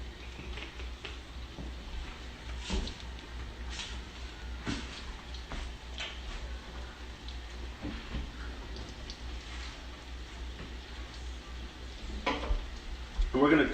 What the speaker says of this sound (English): see how that's simmering and searing, but not going crazy on you?